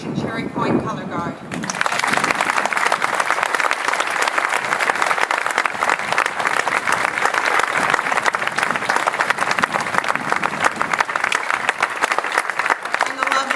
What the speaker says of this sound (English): Ladies and gentlemen, please help me applaud United States Marine Corps Air Station Cherry Point Color Guard.